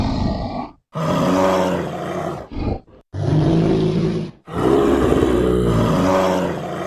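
A bear roars in long, loud, rough bellows, three sustained growling blasts separated by brief gaps, close and harsh with a deep throaty rumble and no talking.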